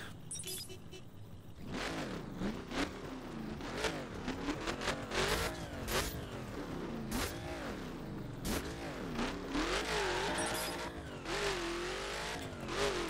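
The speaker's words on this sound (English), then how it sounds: "And this car accelerates too." A green game car with skull rims, a big spoiler and a long front end accelerates in the racing game The Crew, its engine revving up and shifting repeatedly in loud, continuous pulls with some tire noise, no talk over it.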